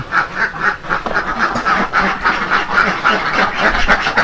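A large flock of farmed domestic ducks quacks continuously at close range, their loud overlapping calls filling the air without a pause and with no one talking over them.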